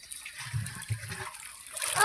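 Tap water running and splashing steadily, with voices talking over it and the gush growing louder at the end.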